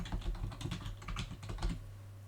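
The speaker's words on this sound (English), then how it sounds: "So I'm going to type in Bilderback." Someone types a name on a computer keyboard, a quick close run of soft plastic key clicks in an uneven rhythm that stops abruptly near the end, with no voices over it.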